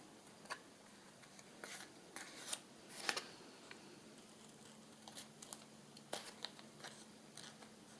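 Scissors snip and trim paper for a flip-up bird journal booklet, with a few short, quiet cuts scattered over a soft background hush and faint rustling between them.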